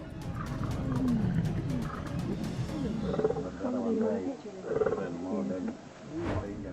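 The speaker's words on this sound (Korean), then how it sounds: "영상에는 2마리 수사자가 치열하게 맞붙어 싸우는 모습이 담겨 있습니다." Two male lions fighting, with loud, rough roars and snarls rising and falling in close bursts, mixed with voice-like sounds throughout.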